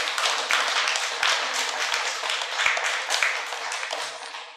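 Dense, sustained applause from an audience at a meditation gathering honoring a guru, many hands clapping loudly and steadily for several seconds with a few sharper individual claps standing out.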